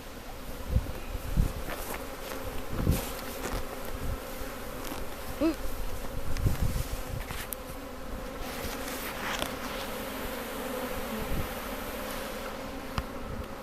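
Honey bees buzz continuously during a swarm capture in Kent, UK, a dense steady hum with occasional closer passes and faint rustling, no talk.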